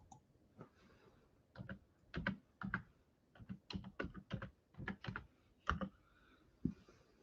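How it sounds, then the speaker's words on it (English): Typing on a computer keyboard, a run of quick irregular key clicks with short pauses between bursts, close and fairly quiet, with no talking. "I'm going to type the word thank you."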